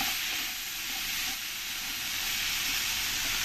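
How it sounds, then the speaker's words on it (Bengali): Chopped tomato frying in a pan with potato and kohlrabi, a dense continuous loud sizzle without pauses or voices. "এবার আমি এর মধ্যে একটা টমেটো কেটে দেবো, দিয়ে ভালো করে আমি একসঙ্গে এরকম করে একটু ভেজে নেব।"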